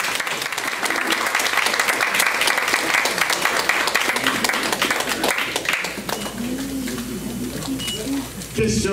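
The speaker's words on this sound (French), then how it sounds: "Et nous devons aussi vous demander d'applaudir la mère et la sœur de Jimmy qui sont avec nous." An audience at a French-language gathering breaks into loud, sustained applause, a thick mass of clapping that stays strong, thins a little in the last seconds, with a faint voice just audible near the end.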